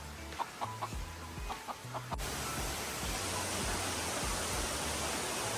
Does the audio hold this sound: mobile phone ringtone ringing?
no